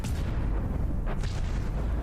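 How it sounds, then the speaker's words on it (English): Cram cannon shells burst against a target in the naval combat game From the Depths, giving a low, muffled, distant rumble with a couple of dull blasts rising through it. "Bam, more cram explosions."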